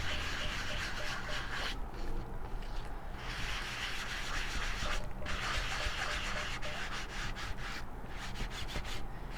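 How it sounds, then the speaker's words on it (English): Ink rubbed onto stamping foam in a craft session, a steady soft scratchy rubbing that continues for several seconds with brief pauses, fairly quiet and with no voices. "I'm just going to rub the ink on."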